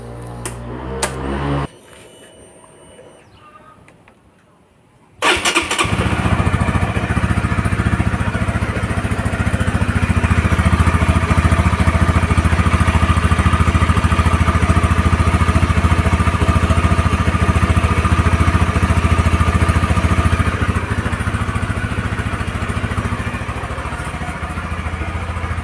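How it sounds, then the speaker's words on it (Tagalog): A Honda Winner X motorcycle engine, freshly serviced with new oil, runs steadily and loud for about twenty seconds after a brief quieter stretch, with a constant close-up rumble and light mechanical clatter and no voices. "Iparinig ko sa inyo ngayon ang andar ni Winner X pagka bagong change oil."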